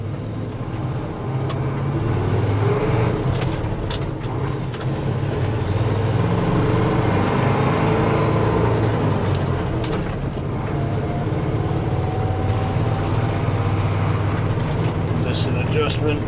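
A medium-duty dump truck drives along with a constant loud engine drone and road rumble from inside the cab, with pitch shifts as gears change and a few clunks mixed in.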